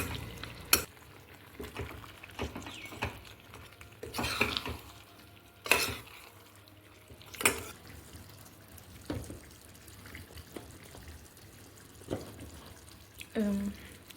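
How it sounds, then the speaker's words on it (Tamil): Cooked mutton goes into a pan for biryani and is stirred, producing soft scraping and clattering strokes with a few louder knocks and a faint sizzle, fairly quiet and close. "வேக வச்ச மட்டன் போட்டுக்கிறேன்."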